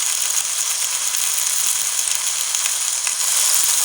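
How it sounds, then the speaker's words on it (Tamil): A kilo of ripe chopped tomatoes meets the hot oil in a big pot of Ramzan-special seeraga samba chicken biryani, with a loud, continuous hissing sizzle throughout. "நல்லா பழுத்த தக்காளி ஒரு கிலோ வெட்டி வச்சுருக்குறோம் அதை இதில் ஆட் பண்ணிக்கலாம்"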